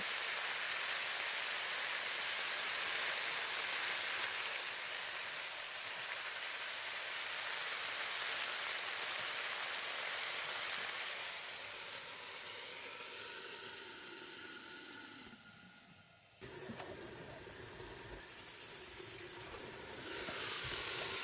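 Spice paste for a bean and peanut dish sizzles in a pan, a continuous hissing fry that is fairly quiet and eases off toward the end, with a brief stir before it picks up again.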